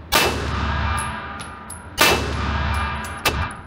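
A Watchtower Apache airgun fires twice, each shot a loud crack with a long ringing tail, and a third, fainter metallic ping sounds as a pellet strikes the target.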